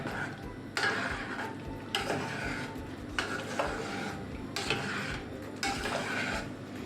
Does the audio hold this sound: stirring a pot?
yes